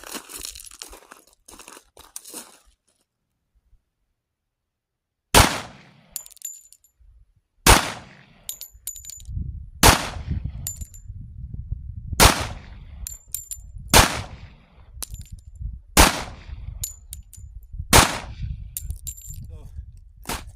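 Springfield Armory 1911 pistol firing at a steel spinner target outdoors: eight sharp, loud shots spaced roughly two to three seconds apart, each followed by a metallic ring from the target, after a quiet start with faint handling noise.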